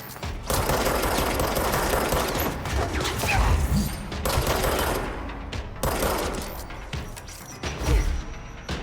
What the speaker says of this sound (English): It would help to shoot it. I'm shooting the person.